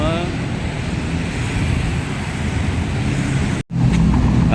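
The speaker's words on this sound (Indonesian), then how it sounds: "ya kita lihat banyak kendaraan" Heavy road traffic streams past on a busy street in Kebon Jeruk, Jakarta, a steady close roar of many engines and tyres with wind buffeting the microphone and a brief dropout near the end.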